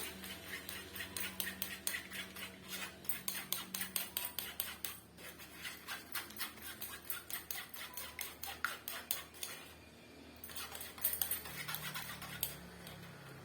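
A spoon scraping and pressing wheat flour juice through a strainer, giving a steady run of quick, rhythmic metallic scrapes up close, with a short lull midway before the scraping resumes.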